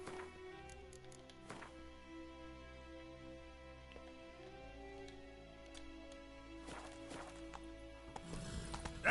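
Roach the horse in The Witcher 3 clip-clops along at a walk, hooves tapping in an uneven rhythm close by, with a neigh or whinny and quiet music beneath, fairly soft overall.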